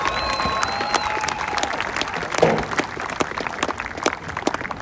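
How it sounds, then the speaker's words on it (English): Crowd applause at a North Rockland high school football field dedication, with cheerleaders and football players present, a steady outdoor patter of many hands clapping with scattered cheers, moderately loud and continuous. "Let's give them a round of applause."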